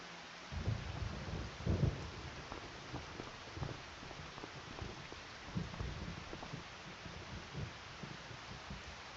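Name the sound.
rain starting in a farming video game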